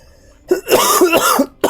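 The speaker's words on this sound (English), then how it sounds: "apologize for the coughing" A single close, harsh cough bursts out in a rapid series of hacks, followed by the start of another cough.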